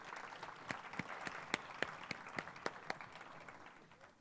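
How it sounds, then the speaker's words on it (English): Applause for Mr. Johnson at an awards event in Suntec: quiet, somewhat distant clapping with distinct sharp claps standing out at a fairly regular pace over a soft crowd wash. "ladies and gentlemen, please, a round of applause for Mr."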